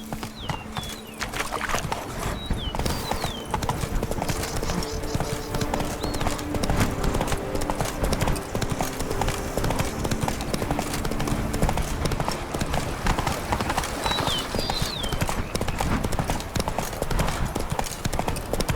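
Rhythmic horse hooves clip-clop steadily in The Witcher 3, loud and continuous over ambient game sound, with a brief voice near the start.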